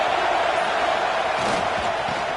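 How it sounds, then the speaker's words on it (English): Stadium crowd at a college football game between the Dukes and UF, a dense continuous roar of cheering and noise, loud and unbroken throughout. "Listen to the crowd energy here in the early going."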